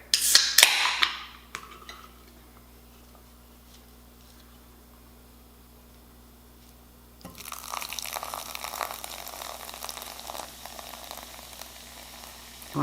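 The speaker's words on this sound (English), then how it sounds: "And then we're going to pour in our beer." Beer pours into a bowl of bread dough with cheese, a bright clink at the start, then a quiet stretch before a steady fizzing, splashing pour takes over, close and moderately loud.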